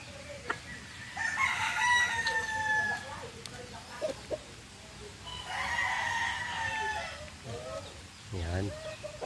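A brown red straight comb rooster crows twice in long, loud, drawn-out calls at moderate distance, with softer farmyard sounds and brief clucks between them.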